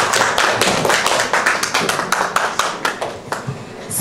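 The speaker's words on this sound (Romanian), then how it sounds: "Aplauze!" Dense, lively hand clapping from a small group of family members at a children's surprise party with a costumed polar bear; close, rapid claps sustained throughout before tapering off slightly.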